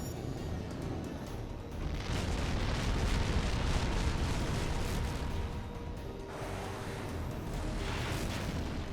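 A ground target explodes during an aerial strike in the game H.A.W.X. 2, a sustained roaring blast that rumbles on for several seconds with a brief dip near the end, with no voices over it.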